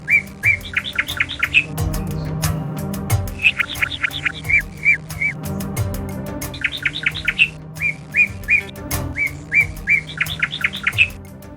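Bird chirping in an animated jungle setting, repeated bursts of quick high tweets in rhythmic groups over a busy background of lower calls and music, near and clear.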